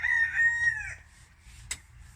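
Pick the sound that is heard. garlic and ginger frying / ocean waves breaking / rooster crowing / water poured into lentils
rooster crowing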